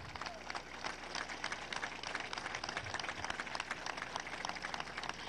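Applause from a crowd at the opening ceremony of national sports games, a broad continuous wash of clapping heard at moderate distance.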